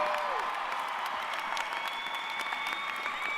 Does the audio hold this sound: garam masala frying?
no